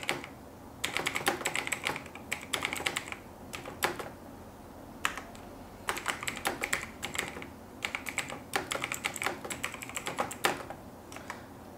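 Close, clicky computer keyboard typing as a recipient's address is entered into a courier booking form, fast bursts of keystrokes separated by short pauses throughout.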